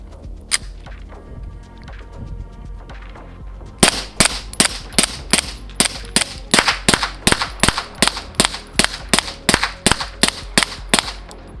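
A Flux Raider fitted with a Q suppressor fires a long string of suppressed, mostly supersonic shots, one early report followed by a steady rapid series of sharp cracks at close range.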